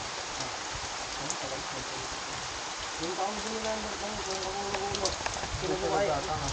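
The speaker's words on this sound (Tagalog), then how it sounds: "Lakas ng ulan dun oh." Heavy rain hisses steadily at a fishing spot, a dense wash of drops under someone talking in the middle of the clip.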